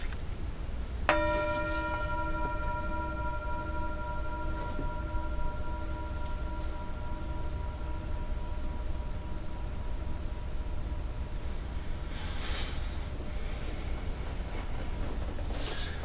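A single meditation bell is struck once, its clear harmonic tone ringing out near and slowly fading over several seconds against a quiet room hiss.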